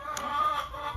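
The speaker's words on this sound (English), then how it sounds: "So, my chickens are hungry." Hungry chickens clucking close by, a short run of soft repeated clucks and a brief higher squawk over quiet background, no talking.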